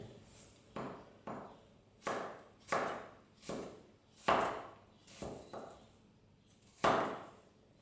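A knife slicing stacked carrot slices into julienne strips on a cutting board, about eleven crisp, evenly spaced chops close by, with no talking.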